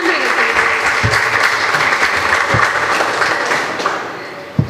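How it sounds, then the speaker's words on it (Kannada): A crowd at a community gathering gives a loud round of applause for a swami, dense continuous clapping with a few heavier hand hits, fading slightly toward the end. "ಒಂದು ಜೋರಾದ ಚಪ್ಪಾಳೆಯೊಂದಿಗೆ"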